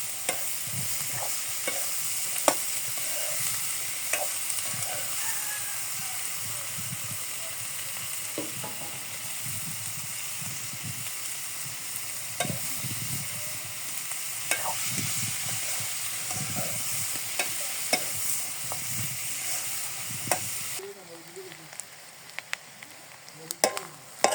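Onion, green chili and potatoes fry in fish oil, giving a continuous close sizzle broken by stirring clatters and scrapes of the spatula, which quiets near the end as the heat dies down.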